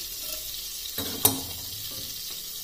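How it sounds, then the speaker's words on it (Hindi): Cloves and green cardamom sizzle in melted butter with a steady, close frying hiss, broken by a couple of brief stirring clatters around the middle; no one speaks. "अब बटर मेल्ट होने पर इसमें ये लौंग डाल देनी है और सब्ज़ इलायची"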